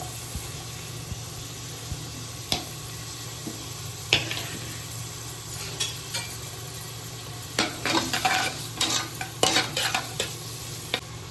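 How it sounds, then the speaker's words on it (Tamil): Three chopped medium onions fry and get stirred in a pan, a continuous sizzle under louder clattering scrapes of a spoon against metal that pick up toward the end, no talking. "இப்போ கட் பண்ண வெங்காயத்தை போட்டுக்கலாம்."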